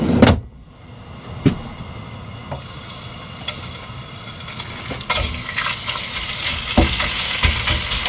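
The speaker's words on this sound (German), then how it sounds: "Erstmal braten wir dann die Hähnchenbrustfilets in der Pfanne an" Chicken breast fillets sizzle in hot oil in a pan with a steady, loud frying hiss, broken by a few clanks and scrapes as the pieces are moved.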